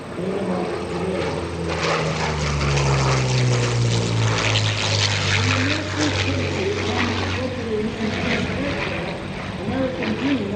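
A P-40 Warhawk with an Allison engine passes at an airshow, a loud throaty propeller drone swelling and shifting pitch, with a public-address voice talking over it.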